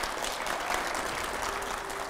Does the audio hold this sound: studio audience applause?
yes